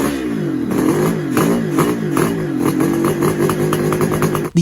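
A Kawasaki H2 Mach IV two-stroke motorcycle engine revs repeatedly, rising and falling in pitch with a rough, buzzy rattle, loud and close throughout.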